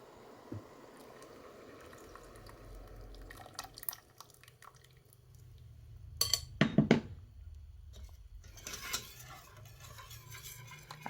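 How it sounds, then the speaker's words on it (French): Maize flour porridge stirred in a pot over the fire, with soft scraping and clinking of the spoon against the pot amid quiet bubbling, growing louder in a few brief bursts toward the middle and end. "il faut rester près du feu et continuer à tourner de cette façon"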